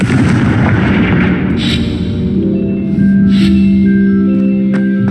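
A Confringo fire spell bursting in Hogwarts Legacy, with a loud, dense booming blast that rolls on steadily, followed by a lingering tonal hum and scattered crackles.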